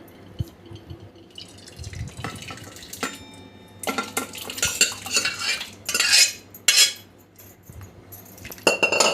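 Yellow dal is poured into a kadhai and stirred, with metal spoon scrapes, clinks against the pan and splashing liquid coming in irregular bursts, close and fairly loud.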